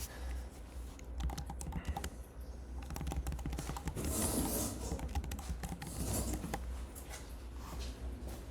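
Rapid typing on a computer keyboard during a programming lecture, a close, steady clatter of key presses with brief pauses and faint room noise beneath, no talk.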